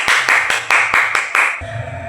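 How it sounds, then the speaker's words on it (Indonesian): Seven sharp, evenly spaced claps ring out in a classroom during an elementary school lesson, loud and close. Each clap is a crisp broadband burst, and a low murmur of voices rises after the last one. "Tepuk tangan buat kita semua."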